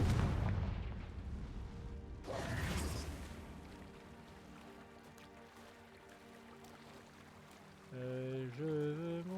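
In the video game Hogwarts Legacy, the Confringo blasting spell goes off as a loud, booming burst, followed by a second crackling blast that fades into a rumbling tail before music and sound effects return.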